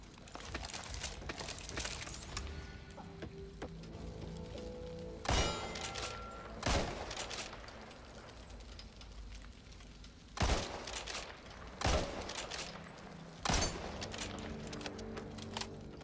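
A semi-automatic assault rifle fires in the Back 4 Blood game, with several loud single shots spaced irregularly over a steady, busy game background.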